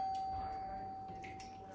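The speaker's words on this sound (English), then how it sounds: "they're playing with the doorbell" A doorbell chimes faintly in the background of a home kitchen, a brief soft ding with no talking over it.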